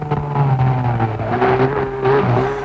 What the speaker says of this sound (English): Flat out along the seafront, the cars approach a fast right-hander that bends around Macau's big reservoir